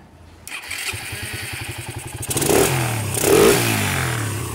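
A Suzuki Satria motorcycle engine cranks with a rapid clattering starter, catches and fires, then revs up in two surges before settling into a close, loud idle.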